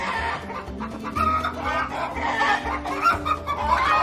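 Button quail and larger Coturnix quail cluck in their pen, a busy stream of soft chattering calls and short clucks close by, overlapping continuously without talk.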